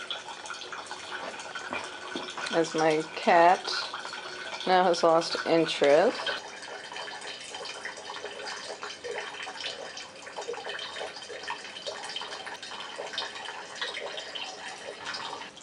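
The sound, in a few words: water flowing through Sawyer SP181 water filter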